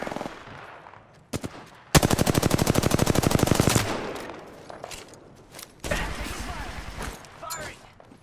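Automatic weapon fire in Apex Legends: a long rapid burst of rattling shots, loud and close, followed by more bursts amid game sounds.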